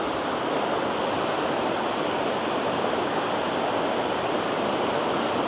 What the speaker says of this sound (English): That's leading on to Purakaunui Falls. As it's going down those rocks.